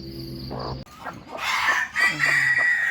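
Jungle fowl chickens in a pen: a rooster's crow opens, then a run of rapid clucks and squawks from hens and chicks, close and lively, with no talk over them.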